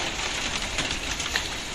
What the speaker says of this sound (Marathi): आता जाम जोराचा पाऊस आला आहे